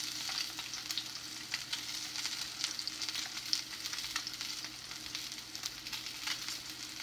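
Salmon fries in a pan with a steady, close sizzle and crackle, dotted with small pops and occasional stirring scrapes, with no voices.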